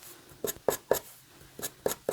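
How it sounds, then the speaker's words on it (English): Pinking shears cut through a piece of fabric in a series of crisp snips, three in a quick run, a short pause, then three more, close and fairly loud with no talking. "I'm just going to use my pinking shears and maybe see if I can fray it a little bit"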